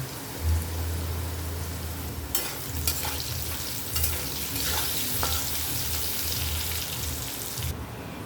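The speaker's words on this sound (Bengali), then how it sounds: "এবার আমি আলুগুলোকে ভেজে নেব।" Potatoes fry in oil with salt and turmeric, a steady, close crackling sizzle broken by occasional stirring scrapes and spatters.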